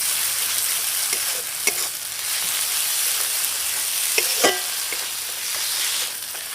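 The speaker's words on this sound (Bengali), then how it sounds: "এবার আমি দিয়ে দেবো আদা রসুন বাটা, দিয়ে আবার একটু ভেজে নেবো" Ginger-garlic paste sizzles steadily in hot oil with onions, a dense continuous frying hiss broken by occasional brief stirring clicks and scrapes, close and fairly loud with no voices.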